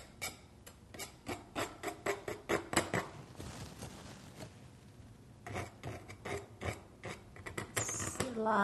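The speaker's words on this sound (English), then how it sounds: "you're going to do a lot of palette knife pointy things here" Repeated short dabbing scrapes of a palette knife laying in grass strokes on a scenery painting, a quick rasping rhythm of close taps with a brief pause midway before the dabs resume.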